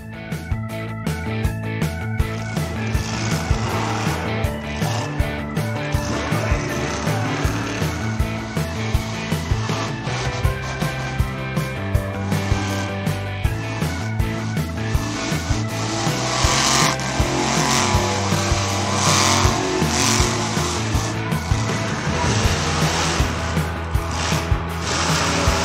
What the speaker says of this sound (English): Check it out! This green monster truck is doing a wheelie.